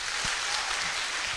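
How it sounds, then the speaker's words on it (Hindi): Audience applause at a motivational talk on success, steady broadband clapping filling the whole short stretch at moderate level, with no voices over it. "एक जोरदार ताली हो जाए इनके लिए।"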